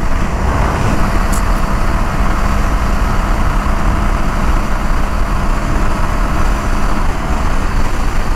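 A 2022 Honda Grom motorcycle fitted with a 14-tooth sprocket is ridden at high RPM, its engine a continuous, loud, even drone mixed with road and wind noise, with no talking.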